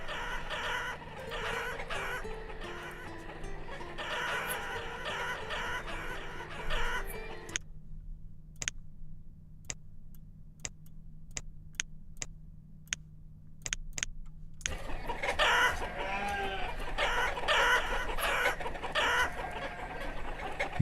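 Chickens in the village-building game Banished cluck and squawk in busy repeated bursts, then drop to a few sparse isolated clucks before the flock grows noisy again; a steady low hum runs underneath and nobody speaks.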